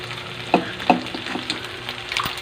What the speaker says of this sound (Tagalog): At unti-unti ko na rin pinipress ang ating kamatis.